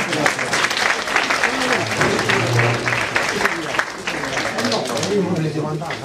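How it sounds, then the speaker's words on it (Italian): A theatre audience at a San Felice comedy performance applauds steadily and loudly throughout, dense clapping filling the hall with voices mixed in underneath. "Per loro facciamo un applauso"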